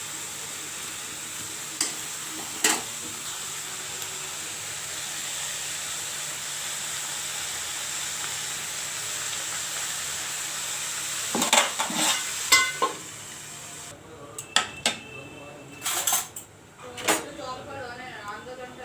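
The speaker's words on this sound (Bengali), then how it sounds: "তো এই যে এখন শাকটা দিয়ে দিলাম, কেটে নিয়েছি ঝিরি ঝিরি করে" Finely shredded leafy greens hit hot oil in a pan, giving a steady, close sizzling hiss, later broken by clanking scrapes and knocks of a utensil stirring them.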